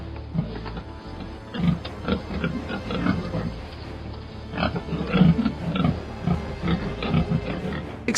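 Sows on a free-range farm grunt in short, repeated bursts over a steady low background, moderately close and fairly quiet, with no talk.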